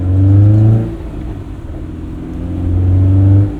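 A 2001 Honda S2000 with a new clutch revs up loudly, eases off through a gear change, then builds engine note again, close and smooth with no chatter.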